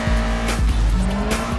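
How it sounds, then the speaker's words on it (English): Cars racing at high speed through busy traffic in a Fast and Furious street-race scene, with loud continuous engine roar, a tire squeal and quick passing swells alone without talk. "Roman and Brian must weave in and out of busy traffic at ludicrous speeds"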